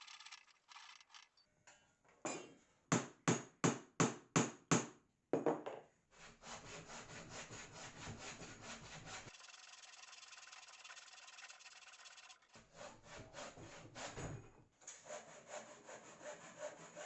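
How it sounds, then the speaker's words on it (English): Hand saw cutting through wood in a series of steady rhythmic strokes, then longer continuous sawing, close and clear, with brief pauses between passes. "This was a substantial workout of sawing"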